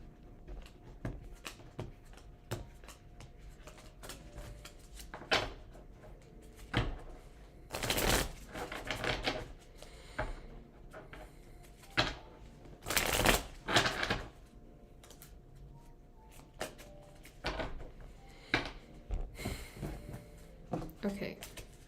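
Playing cards being shuffled in a few quick riffling bursts, close up, with quiet pauses and soft room noise between them.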